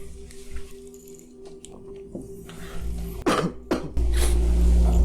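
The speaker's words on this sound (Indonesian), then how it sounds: "agak batuk sedikit." Two hoarse coughs close to the microphone, following a quiet stretch with faint background hum.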